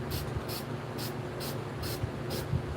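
Six short, evenly spaced hisses of an aerosol spray paint can misting paint onto a waterfall in a street-style nature scene painting, each burst brief and close over a faint low background hum.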